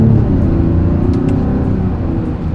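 A Mazda CX-70 SUV accelerates hard during a paddle shifter test, its engine a loud, steady low rumble heard from inside the cabin, with no gear change audible in the short stretch.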